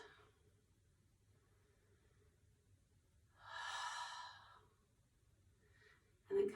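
A single deep yoga breath during a hatha session, a soft airy exhale swelling and fading in a quiet room, followed by a brief sharp intake.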